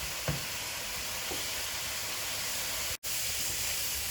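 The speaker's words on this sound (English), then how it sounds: "we're going to grill the eggplants on it" Eggplant slices brushed with olive oil sizzle steadily on a grill, a close, constant hiss with a couple of faint taps and one abrupt instant of silence near the end.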